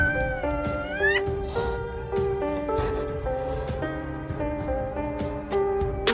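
Mother cat fighting a python, with tonal yowls and hisses that repeatedly swell and fall over a steady background, fairly loud and close.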